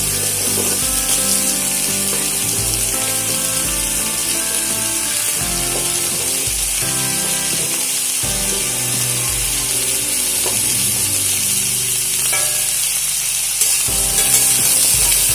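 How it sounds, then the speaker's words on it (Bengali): Pointed gourd, potato and pumpkin pieces frying together in a pan, a steady loud sizzle with repeated scraping and stirring clatter throughout, no talking. "আবারও সমস্ত সবজি একসঙ্গে খুব ভালো করে ভেজে নেব।"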